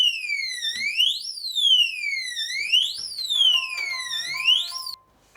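Xiaomi Mijia smart safe alarm wails loudly nearby in repeated rising and falling electronic sweeps for about five seconds, then cuts off abruptly.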